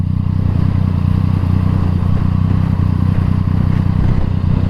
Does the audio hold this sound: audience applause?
no